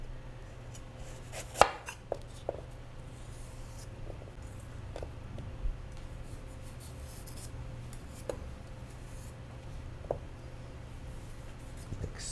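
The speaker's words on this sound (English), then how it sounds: "I'm just gonna basically peel it down with my knife." A knife peels the skin off a piece of ginger, making faint repeated scraping strokes with a few sharper taps against a cutting board, over a quiet steady hum, no talking.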